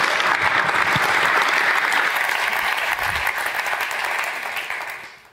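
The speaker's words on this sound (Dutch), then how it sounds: "Geef een warm applaus." A large audience at a talk event on the future of football gives the evening's host loud, dense applause that roars continuously, then tapers off at the very end.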